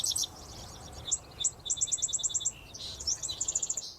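A dickcissel calls over a faint, steady outdoor hiss, giving several bursts of rapid, high, dry stuttering notes in quick runs, moderately near.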